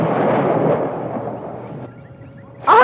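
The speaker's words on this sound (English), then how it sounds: "With my singing hammer, I send forth the thunder and lightning like so." Rolling thunder sound effect for Thor's singing hammer in a 1982 children's radio show: a loud rumble that fades over a couple of seconds before a sharp new burst at the end.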